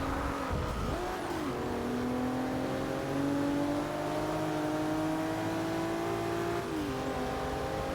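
Volvo S60 engine in the racing game Forza Motorsport 6, a loud continuous roar with pitch rising steadily through the gears and brief dips at shifts, close and alone.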